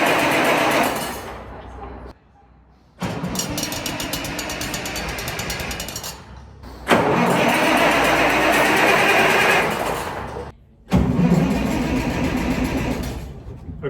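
A 1953 Peterbilt truck engine cranks on its starter, a loud, rapid mechanical churning in three long bursts with brief pauses between them, sounding strained as though the batteries are weak.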